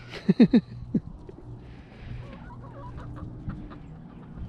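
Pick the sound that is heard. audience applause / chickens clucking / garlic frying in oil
chickens clucking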